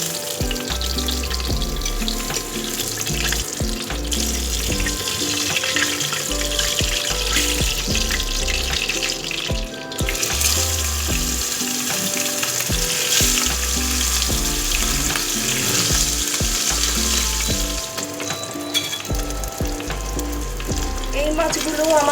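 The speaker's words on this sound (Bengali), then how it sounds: "এইভাবে বাকি মাছগুলো আমি ভেজে নেব।" Pieces of katla fish fry in hot oil for a Bengali-style recipe, giving a continuous close, loud sizzle and crackle with occasional scraping. No voices are present.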